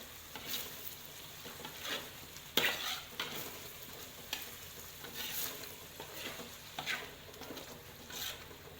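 Spice paste for Indonesian pesmol tuna being stirred and sautéed in a pan, a steady sizzle with repeated scraping strokes of the spatula, close and fairly quiet, with no talking.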